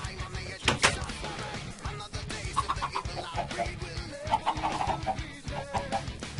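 Minecraft chickens cluck in a short series of clucks over busy game background noise, with no talk.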